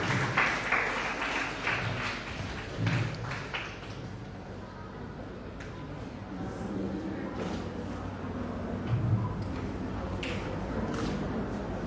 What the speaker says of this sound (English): Guys, a round of applause